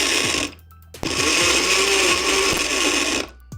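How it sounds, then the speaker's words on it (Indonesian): An IDEALIFE Super Blender IL 220 runs with water inside, a loud steady motor whir lasting about two and a half seconds, with a short pulse burst before it and an abrupt stop at the end. "Dan aku akan coba blender."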